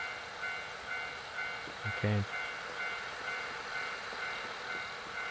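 A railway crossing in the Nostalgic Train video game rings with a steady repeating bell over train rumble, and a short horn-like blast sounds midway; a voice briefly speaks once.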